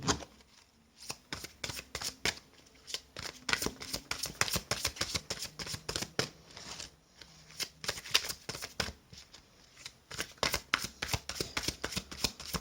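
Playing cards are shuffled repeatedly, producing bursts of crisp riffling and flicking close up, with short pauses between rounds, as if for a card reading.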